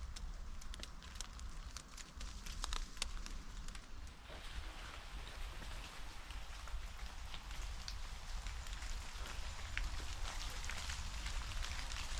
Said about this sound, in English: Wow, looks like it's raining.